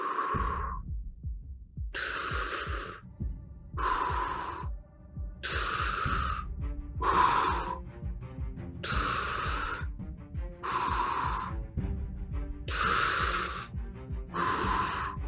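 Rhythmic guided Wim Hof breathing, deep full inhales and let-go exhales repeating about every second and a half over steady background music, with no talking.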